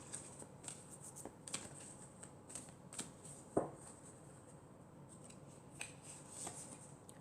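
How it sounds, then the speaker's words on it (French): Tarot cards are shuffled, a quiet series of soft riffling and snapping card sounds with one sharper slap partway through, close and without talk. "je vais mélanger à nouveau pour tirer encore 4 cartes"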